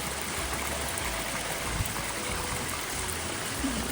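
Water flows steadily through a channel into a rice field on a Kokan farm, a continuous broadband rushing and trickling close by, with no talk.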